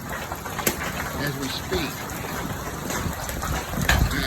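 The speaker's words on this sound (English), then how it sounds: "That's golf ball size hail at least coming down, and it's getting larger" Golf-ball-size hail pelting down in a dangerous storm, a dense rushing clatter of impacts with a few sharper hits, heard beneath someone talking.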